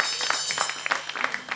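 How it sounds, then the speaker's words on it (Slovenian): Studio audience applause for a zither performance on a live radio show: a short, steady burst of clapping with a few voices mixed in. "En aplavz za citre."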